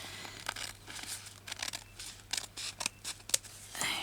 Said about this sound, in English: I'm going to cut a bit off.